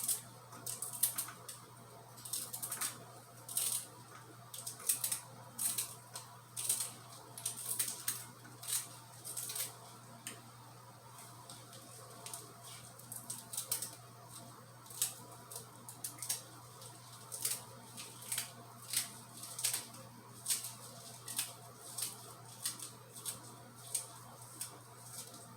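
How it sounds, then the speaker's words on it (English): Beetroot leaf stems being chopped into small pieces with a knife on a cutting board, giving a run of quiet, quick, uneven taps with no talking. "I cut the stem. I cut it into small pieces."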